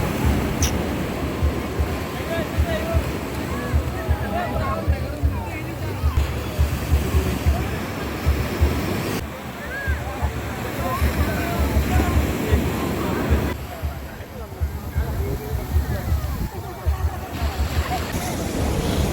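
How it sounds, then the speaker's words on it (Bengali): Ocean waves roar continuously on Cox's Bazar beach in the evening, with dense, surging surf and some wind rumble throughout and no clear pauses. "সমুদ্রের পানির গর্জনটা একটু উপভোগ করার জন্য সাউন্ডটা, আমার ভয়েসটা আমি দেইনি।"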